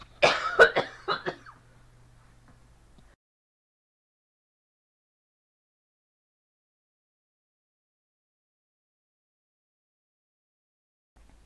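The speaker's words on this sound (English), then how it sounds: "I'm so sorry, I had a coughing fit there." A short burst of several harsh coughs, close and loud, followed by a long stretch of near silence.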